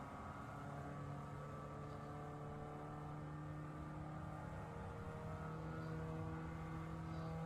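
A low, steady engine drone from a Gran Turismo 7 video game car fitted with a muffler, with a deep humming tone, continuous and unchanging, like a car idling or cruising, with no talking.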